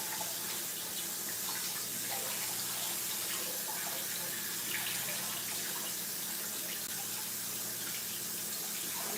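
Tap water runs steadily into a sink while raw chicken is washed for chow mein and stew chicken, a moderate, even splashing stream heard close by with no talking.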